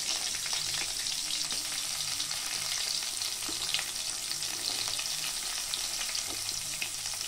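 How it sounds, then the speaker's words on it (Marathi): Onions fry in a pan for vegetable pulao with a continuous hiss and crackle of hot oil throughout, steady and fairly close, with no voices. "कांदे फ्राय करा चांगले."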